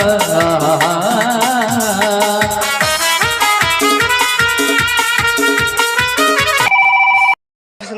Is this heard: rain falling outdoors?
no